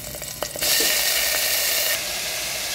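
Mixed vegetables poured into a hot pan of oil with green chilies, garlic and ginger for a vegetable shammi kebab, setting off a sudden loud, broad sizzle that stays close and continuous, then settles slightly quieter.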